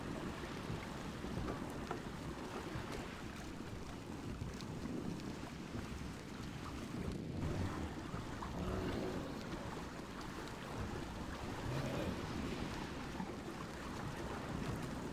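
A boat sailing close along a beach in ARK: Survival Ascended, giving a continuous rush of water and wind with lapping surf, steady and fairly loud throughout, with no talking.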